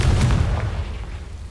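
Confringo fire spell explodes in the video game Hogwarts Legacy, a heavy deep boom that rumbles and decays over about a second and a half.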